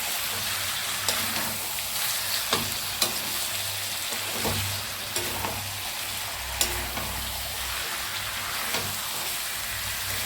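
Mutton browning in a pan gives a steady, close, dense sizzle with faint crackles, broken by a few soft clinks and scrapes of stirring, with no talking.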